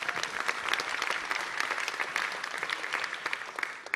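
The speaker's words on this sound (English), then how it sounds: "Please give them a round of applause." Warm audience applause welcoming two doctors onto a stage at a talk, a dense steady wash of clapping heard from a moderate distance throughout, with no voices over it.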